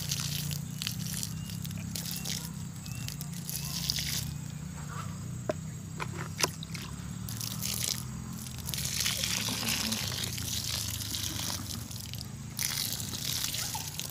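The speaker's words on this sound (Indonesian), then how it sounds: "Kita siram." Water splashing onto young sugarcane plants about a month old after fertilising, a steady wet spattering and sloshing that runs continuously outdoors with low background hum.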